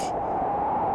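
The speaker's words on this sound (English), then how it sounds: "that white noise going through a filter to give you that classic" On the Perk & XORBell synth, filtered white noise makes a steady wind-like hiss with a narrow resonant band. A brief brighter burst opens it, then a constant tone continues alone.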